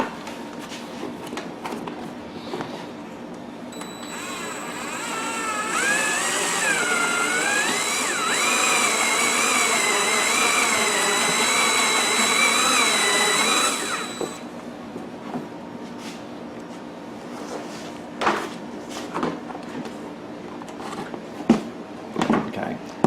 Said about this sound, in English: When you do drill this hole, if you drill a small pilot hole